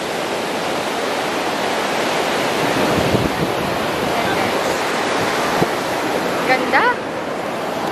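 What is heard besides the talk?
strong ocean waves crashing at a beach in Bali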